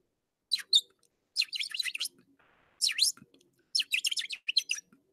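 Birds chirping in a tree, with four bursts of bright, rapid chirps and tweets separated by short pauses, heard clearly at moderate volume and with no talking.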